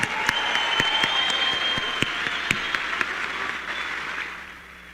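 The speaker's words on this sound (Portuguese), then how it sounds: "Uma salva de palmas para Arthur Duval." A crowd at a political congress in Paraná applauds for Arthur Duval, a steady roar of clapping with a few sharp individual claps standing out, fading off toward the end.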